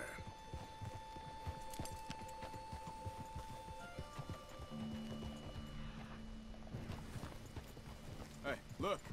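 Horse hooves in the video game Red Dead Redemption 2 clop in a steady rhythm, close and clear, with soft tones and ambience behind them and a brief whinny near the end.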